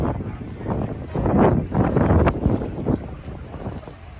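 Boat traffic on a canal in Amsterdam in summer: a steady churning motor and water wash, mixed with wind buffeting the microphone, fairly close and continuous, with no talk.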